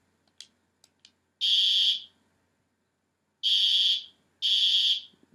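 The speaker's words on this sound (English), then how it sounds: "First up, we have a spectralert advanced in code 3" Spectralert Advanced fire alarm horn sounding a code 3 pattern, loud harsh buzzing blasts after a few faint clicks, one long blast followed by two more with short gaps, alone and close.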